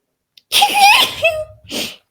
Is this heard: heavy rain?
no